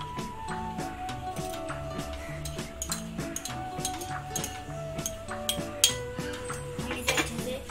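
Spoon stirring sauce with honey in a bowl, steady rhythmic clinks and scrapes against the bowl repeating close and clear over a few seconds, with soft kitchen background.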